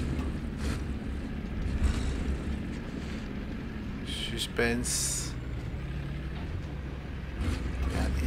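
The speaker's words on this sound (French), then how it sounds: "Il y a deux moteurs qui arrivent." Tank engines approaching in War Thunder, a steady low rumble that runs beneath someone talking throughout, with brief mechanical clanks and game effects rising partway through.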